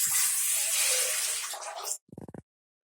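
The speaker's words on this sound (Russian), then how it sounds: "Я выливаю сначала воду." Water poured into a bowl for sourdough bread dough, a steady splashing pour for about two seconds, then a quick run of short hollow knocks before silence.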